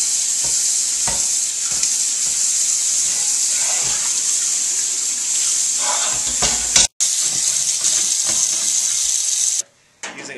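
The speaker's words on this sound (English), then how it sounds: "I'm using 4-aught grade steel wool with soap and water." Continuous wet, hissing scrubbing of 0000-grade steel wool with soap and water against cast iron cookware, steady and close, pausing briefly twice.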